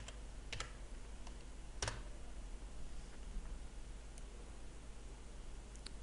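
Keys on a computer keyboard tapped to type a layer name while working in Photoshop, a few soft, scattered clicks close by over a faint steady hiss.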